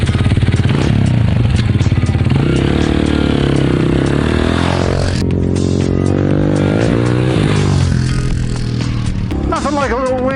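A 2003 Honda CRF230F dirt bike engine runs close and loud while riding, its pitch climbing and dropping through several throttle swells, with some clattering and scraping mixed in.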